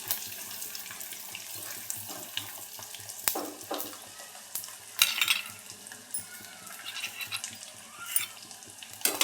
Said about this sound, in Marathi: तळून घ्यायचे आपल्याला छान लालसर.